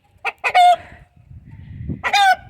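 A guinea fowl calls out loudly at close range to other birds, two short clucks followed by a drawn-out squawk, then another squawk after a pause.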